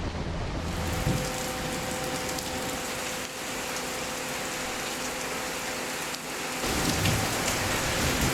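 Steady rain falls in the Florida Keys, a dense continuous hiss of drops on surfaces that swells slightly louder near the end, with no voices.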